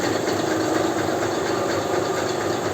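A paddy rice seed sieving machine runs steadily, a loud, continuous mechanical drone and rattling hum with no breaks.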